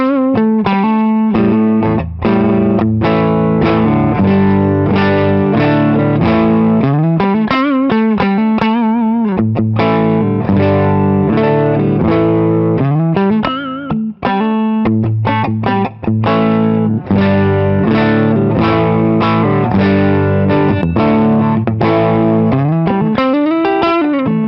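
A budget Les Paul copy electric guitar on its neck pickup plays a busy distorted riff, with chords and fast single notes, loud and continuous and heavily effected.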